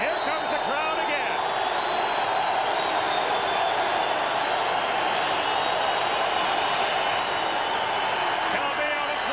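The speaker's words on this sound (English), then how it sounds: "And here comes the crowd again." Stadium crowd at a Canadian Football League game, Hamilton Tiger-Cats at Winnipeg Blue Bombers, roaring and cheering steadily throughout, a dense broad wash of voices and some applause, loud and continuous with no pause.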